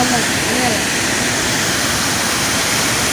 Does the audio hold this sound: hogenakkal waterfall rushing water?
yes